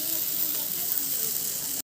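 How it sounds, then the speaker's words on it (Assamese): Food sizzles steadily in hot oil in a home kitchen, a dense even hiss filling the short stretch before stopping abruptly. "এয়া ধুনীয়াকৈ তেলত ভাজি আছে"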